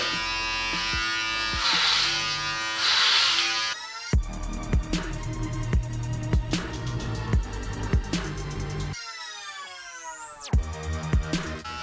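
An electric hair clipper set to 6 mm buzzes steadily while shaving a head at home, near and loud, with brief pauses and restarts; no one talks over it.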